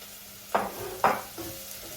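Ingredients sauté in a pan for lamb rice, with two sharp stirring scrapes and a softer third one over a low, steady sizzle.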